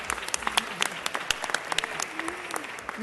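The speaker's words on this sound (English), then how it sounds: "Let's give Cheryl a round of applause" Sparse, scattered clapping from a city council meeting audience welcoming a speaker to the podium, a few hands clapping unevenly at close range with a faint voice briefly audible.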